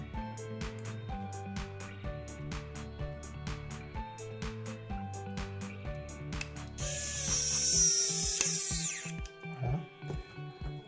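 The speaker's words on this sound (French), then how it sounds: "redonner un petit coup de vis, de tournevis." A screwdriver tightens screws on a Robocop figure kit, making a rapid, evenly spaced ratcheting click up close, interrupted by a brief higher whirring burst before the clicking resumes.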